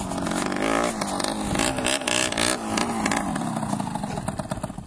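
A misfiring engine at a sand pit revs loudly and unevenly, sputtering and cutting out between bursts, heard up close with a rough clatter running underneath throughout.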